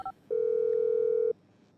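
A phone dialing sound from the video game GTA V, used to call in and detonate a bomb: a short double beep, then one long steady electronic tone lasting about a second, loud and alone.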